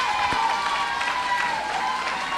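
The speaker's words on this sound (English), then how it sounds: "The Canadians saying we can cheer too." Spectators at a bowling championship masters final cheer and clap in a brief, steady crowd wash, with voices mixed into the noise.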